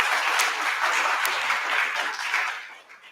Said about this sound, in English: I will request all my participants here to give a round of applause